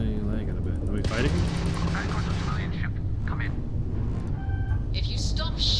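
Spaceship weapons fire in a Starfield space battle, a dense, continuous barrage of booming shots and blasts that runs the whole time, loud and close, with brighter zaps near the end and voices beneath it.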